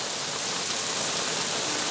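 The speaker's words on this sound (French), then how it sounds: "Ouais, il pleut. Regardez toute cette pluie." Steady, dense rain pours onto surfaces during a moderate late-summer thunderstorm in Montady, a loud continuous hiss with no pauses and no voices.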